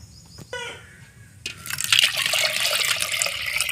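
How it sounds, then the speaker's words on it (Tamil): Tamarind being mixed by hand into mashed tomato water for thuthuvalai rasam: a few soft wet squelches, then steady close sloshing and swirling liquid that grows louder and continues to the end. "புளியை வந்து இது கூட சேர்த்துக்கலாம்"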